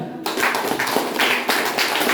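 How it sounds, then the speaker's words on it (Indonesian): An audience at a weekend creativity event at Skandawa Cekatan breaks suddenly into hand clapping, a loud, close, continuous patter of many hands that carries on to the end. "Betul ya, boleh tepuk tangan."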